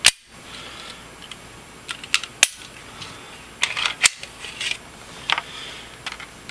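A Glock pistol with an empty magazine is checked and handled up close, giving a series of sharp metallic clicks and clacks scattered irregularly over light room noise.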